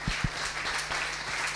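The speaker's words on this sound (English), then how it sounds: "A warm applause, please, for these gentlemen." An audience at an angel investment day panel claps steadily as speakers come up on stage, a continuous even patter of hands with a couple of sharper claps near the start and a low hum underneath.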